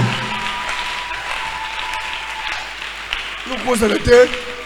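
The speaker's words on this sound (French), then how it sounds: "toi tu dois applaudir" Applause at an evening church youth gathering honouring a mother figure, a dense wash of clapping from a crowd that swells near the end, with voices and shouts mixed in.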